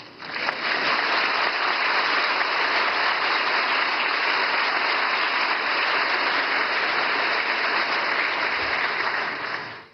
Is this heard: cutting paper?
no